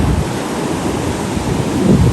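Ocean surf on the beach at Daytona, Florida, gives a broad, steady wash of breaking waves mixed with wind buffeting the microphone, fairly loud and close, with no voices.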